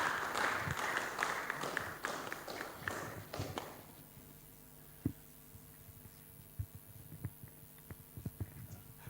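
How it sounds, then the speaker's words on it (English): Audience clapping at a peace project workshop, a dense burst of applause for roughly four seconds that then stops, leaving a quiet room with scattered knocks and faint movement. "Let's give another round of applause to our brother."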